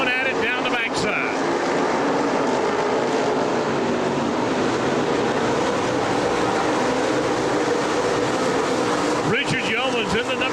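Limited late model stock cars roar around a racetrack in a continuous loud drone, with engine pitch sweeping as cars pass near the start and end, under an announcer's running commentary.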